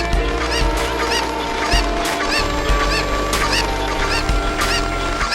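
Busy poultry noise from a Zelda video game: many chickens cluck and squawk at once in a continuous, layered chorus, with sharp repeated calls standing out.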